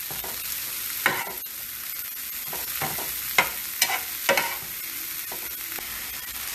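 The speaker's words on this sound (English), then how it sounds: "We're just going to stir this all together." Mung bean sprouts stir-fried in a hot pan, a steady close sizzle broken by sharp scraping strokes of the utensil against the pan at irregular intervals, with no talking.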